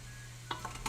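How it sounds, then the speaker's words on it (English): Onions sizzle in a pan while being stirred, giving a steady low frying hiss broken by a few quick scraping strokes near the end. "Keep those onions moving"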